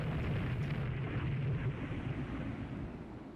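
Naval gunfire in the warship strategy game Rule the Waves 3 comes through as a heavy, rolling boom that rumbles on and slowly fades, deep and muffled rather than sharp.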